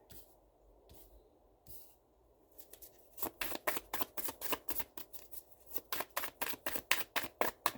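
Tarot cards are shuffled close up, starting with a few soft slides and taps. Then comes a fast, rhythmic run of crisp riffling bursts that grows louder.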